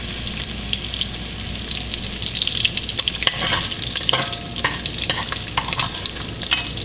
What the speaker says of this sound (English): there is nothing better than the smell of bacon cooking